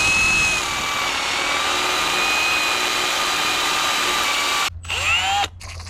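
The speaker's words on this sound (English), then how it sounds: "this is aluminum, so it drills really fast if you got a good bit" A power drill bores a 1/4 inch hole into an aluminum transmission case, a steady close whine running for several seconds before spinning down and briefly restarting.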